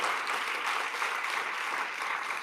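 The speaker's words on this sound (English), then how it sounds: "So if you would give her a round of applause." At a startup awards ceremony in South Africa, a crowd's sustained applause for the host's wife forms a dense, even wash of clapping at moderate loudness, with no voices over it.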